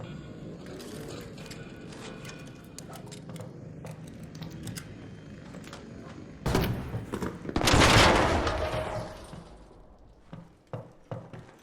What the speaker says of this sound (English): Wait, someone's shooting it?